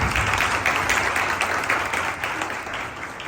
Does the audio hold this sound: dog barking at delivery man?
no